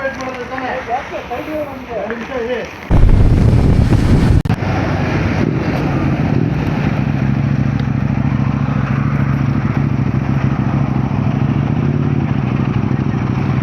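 A motorcycle rides through wet monsoon weather on the way to Sakleshpura, its steady engine drone heavily buffeted by wind roar on the microphone, with a loud gusty burst early on and voices speaking at the start.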